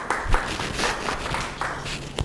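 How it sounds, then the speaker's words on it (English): Classroom students clap together in a scattered burst of hand claps that fades after a couple of seconds, with a few louder claps at the end. "Clap for him."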